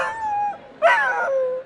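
A dog at the Westminster Kennel Club Dog Show in New York City gives a drawn-out whining howl, then a sharper rising yelp that trails into a thin whimper, close and fairly loud, without talk.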